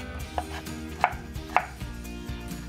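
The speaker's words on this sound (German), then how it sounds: "Ihr könnt das natürlich größer oder kleiner würfeln" A knife dicing potatoes on a cutting board for okroshka, a cold Russian summer soup: a few distinct, crisp chops, near and fairly quiet, with no talking.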